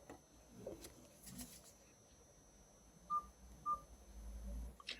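Two short, bright electronic keypad beeps from a 2017 Nokia 3310, evenly spaced about half a second apart, clear and close over a quiet room hum.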